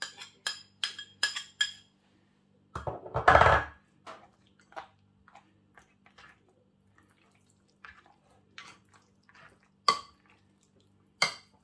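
Yogurt being stirred in a small pan with a spoon: scattered light clinks and scrapes of metal on metal, with a louder burst of scraping in the middle, then sparse taps and a couple of sharper knocks, no talking.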